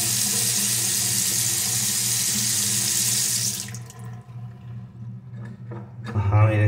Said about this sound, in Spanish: Si tú levantas este y abres la manguera, miren, el agua pues se queda ahí